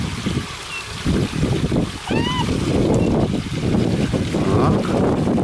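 Water splashing and trickling across a children's forest water playground, a steady broadband rush with bright splatters, while children's voices and chatter carry on over it throughout.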